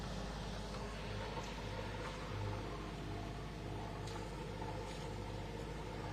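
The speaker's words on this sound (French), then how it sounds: "T'es à quel régime moteur? Je suis à 1900." A boat engine runs steadily at about 2000 rpm, a continuous low rumbling drone with a faint pulsing throb, heard close and alone under broadband hiss.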